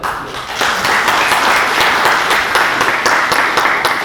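Applause from the audience at a Yeşilay award ceremony in Tekirdağ, a full, even burst of many hands clapping close by, sustained throughout without talk.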